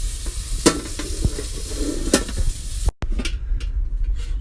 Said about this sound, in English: And it's going to stir this around a little bit.